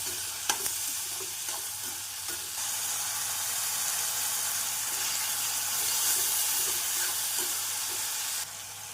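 Onions sizzle and crackle steadily in a hot pan, a continuous frying hiss with a few scraping stir sounds early on, close and clear.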